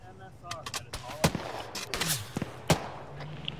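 Gunfire in the military shooter Arma 3, several sharp close shots and distant cracks spread unevenly over a few seconds, mixed with radio chatter and voices.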